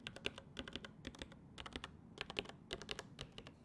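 Rapid typing on a Qwerkywriter typewriter-style mechanical keyboard, with crisp clacky keystrokes in quick bursts and short pauses, close up and alone.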